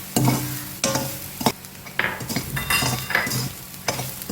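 Semolina and grated coconut roasting in a pan for Chettinad ukkarai, a dry rustle broken by sharp spoon scrapes and knocks against the metal pan every half second or so, close and clear, no voices.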